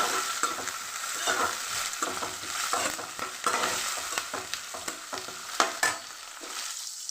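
Curry leaves and green chillies sautéing in a pan, with a continuous bright crackling sizzle close by and frequent quick scraping stirs of a spatula that ease off toward the end.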